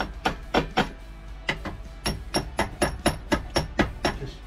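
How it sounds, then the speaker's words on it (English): A hammer taps loose welding flux off a freshly cooled weld on a hydraulic press build, giving a steady run of about fifteen sharp, close metallic knocks in quick rhythm with no speech. "Just tapping all the loose flux off."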